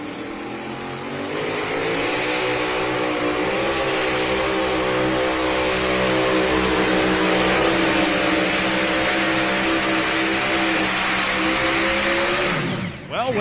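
A pulling tractor called Chaos, an R&D machine at an NTPA Grand National tractor pull in Hutchinson, Minnesota, roars at full power for about eleven seconds. The loud, sustained engine howl climbs gradually in pitch before cutting off abruptly.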